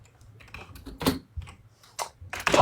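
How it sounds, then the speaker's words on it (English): Someone types unevenly on a computer keyboard, close by, with scattered soft key taps and a few louder clacking bursts, and no talk. "Typing with my right hand is apparently hard."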